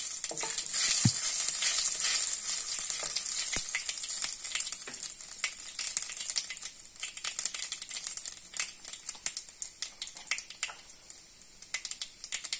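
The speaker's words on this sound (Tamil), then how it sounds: "கடலைப்பருப்பு 1 டீஸ்பூன் போடுங்க. நல்லா கிளறி விடுங்க." Chana dal fries in hot oil and is stirred around a pan for pavakkai puli kulambu, giving a steady sizzle broken by scraping and clattering stirring strokes, close by with no talking.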